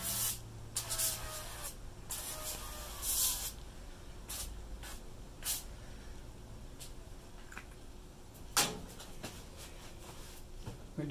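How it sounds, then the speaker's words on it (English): Several short bursts of olive oil spray hiss over beef back ribs in a quiet room, separated by pauses and a few faint handling clicks. "Spray some olive oil over the top."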